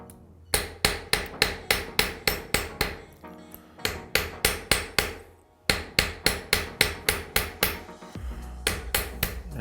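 A ball peen hammer strikes a stamped metal pendant piece wrapped in electrical tape, ringing out in close, loud, evenly spaced blows in three quick bursts with brief pauses between them.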